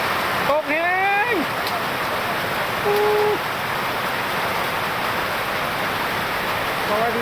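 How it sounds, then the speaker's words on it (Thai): Heavy rain falling in Vientiane, Laos during a storm, a dense, steady hiss filling the whole stretch, with a brief voice-like warble near the start and another faint tonal sound midway. "ตอนนี้ฝนตก"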